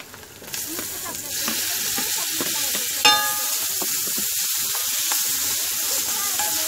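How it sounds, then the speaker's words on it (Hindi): Chopped tomatoes hit a hot pan for a village-style egg and tomato curry, bursting into a loud, steady sizzle that holds evenly, with soft stirring taps and one sharper clink. "अब डालेंगे हम इसमें कटे हुए टमाटर।"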